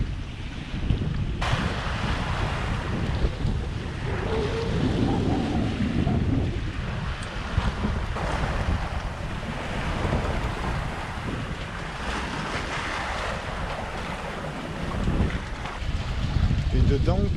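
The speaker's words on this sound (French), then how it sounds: "15 à 20 nœuds de vent est. Ça pousse bien." Wind and waves rush steadily around a sailboat running west toward Gibraltar in a 15 to 20 knot easterly, with broadband wind noise buffeting the microphone throughout.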